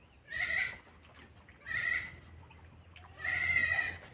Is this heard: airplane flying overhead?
no